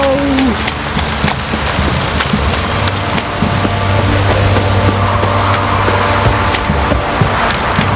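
Rain pours down in the video game The Witcher 3, a loud, dense and unbroken hiss of falling water with soft low rumbling beneath it.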